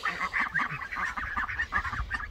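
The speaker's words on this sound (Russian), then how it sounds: "Покажу вам сейчас этих утят, которые потихоньку превращаются у нас в уток." Several Muscovy ducks and ducklings of a heavy German line giving rapid, hoarse honking calls in a steady chattering series, fairly close and continuous.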